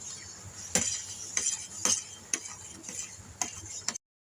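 Sugar being stirred into vermicelli kheer in a pot, with a spoon knocking the rim in separate clinks about every half second over a steady low background, close by and with no voices.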